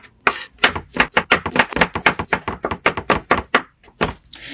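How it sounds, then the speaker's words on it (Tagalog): Onion and garlic are sliced by knife on a cutting board, a quick run of about twenty sharp, evenly spaced chops, close and crisp, with no talking. "hiwain lang yan at gagamit din tayo ng sibuyas at bawang"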